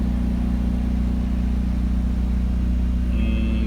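A portable generator mounted on a semi-truck runs with a steady, loud, low engine hum and a constant mechanical drone, a faint higher whine rising near the end.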